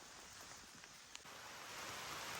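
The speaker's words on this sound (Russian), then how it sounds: "Очень жесткий пошел ливень" Heavy rain pouring down in a forest, a dense, steady hiss that grows slightly louder toward the end, faint and with no other sounds over it.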